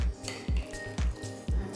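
Cooked rice being mixed by hand with curd for Tamil-style thayir sadham, giving soft, repeated squishy pulses about every half second, each with a faint clink of a vessel, close and fairly quiet.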